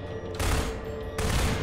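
A loud explosion in Half-Life 2 hits in two broadband blasts about a second apart, each a sudden roar that dies off slowly, with no voices.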